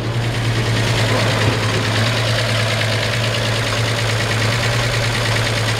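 A 1951 Chevrolet 3100 truck with its 216 engine idles close by in a steady low rumble, with a constant buzzing rattle from a loose license plate riding on top.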